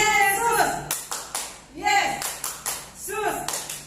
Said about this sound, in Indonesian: Tepuk tangan yang terbaik untuk Tuhan Yesus.